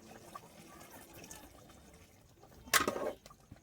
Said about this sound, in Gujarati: આપણે ગરમ ગરમ પાણી નાખવાનું હતું